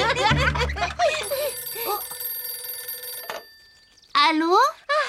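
A cartoon telephone bell rings in a short burst, then stops. Cheerful speech comes before it and a voice answers after.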